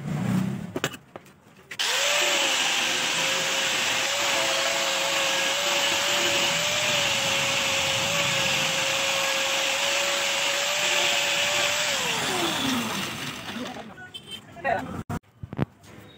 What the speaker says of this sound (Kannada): ಇದರಲ್ಲಿ ಸ್ವಲ್ಪ ಲೈಟಾಗಿ ಬಫ್ ಮಾಡಿಕೊಂಡು ರೆಸ್ಟ್ ಎಲ್ಲ ತೆಗೆದು ಬಿಡೋಣ.